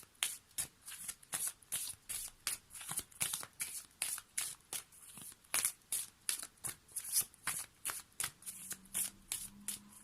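A deck of oracle cards shuffled by hand, close up, with rapid rhythmic riffling bursts repeating steadily and crisply, heard alone without talk.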